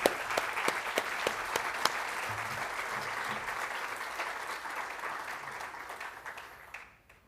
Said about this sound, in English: Please give the Minister a big round of applause.